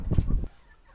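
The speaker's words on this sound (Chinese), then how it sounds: "今天这小鸡儿都回来了" Chickens back home on a rainy, windy day in rural northeast China, giving a quick pair of close clucks that fade into quiet background.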